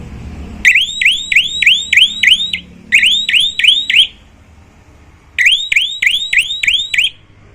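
A loud electronic warbling horn on an electric bike, triggered by the brake, chirps in fast repeated bursts, three separate runs broken by short pauses.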